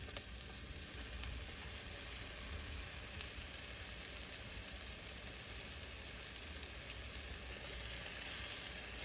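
Chopped onion sizzles steadily in hot oil in a frying pan while fish cakes are made at home, a soft, even crackle with no voices.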